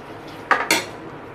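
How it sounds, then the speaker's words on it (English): Two quick metallic clinks of a utensil against a steel vessel while homemade ghee is collected, close and brief, with quiet room tone before and after. "I will just collect it in a container and show you."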